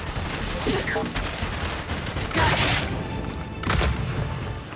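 A frag grenade goes off in the Gears 5 video game amid a busy mix of gunfire and booming blasts, with two loud bursts about a second apart over steady combat noise and a voice calling out.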